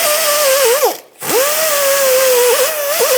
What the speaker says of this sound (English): Now I'm using an air tool here with what we call a little cookie or a cleaning tool to go ahead and just clean this up